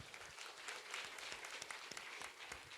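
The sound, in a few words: audience clapping at a church gathering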